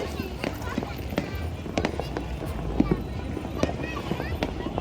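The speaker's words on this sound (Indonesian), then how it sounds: "melihat kemeriahan pesta kembang api rakyat di kota Ambon" Scattered pops and crackles of a New Year's Eve public fireworks display in Ambon, Indonesia, bursting irregularly over a busy outdoor crowd din with voices throughout.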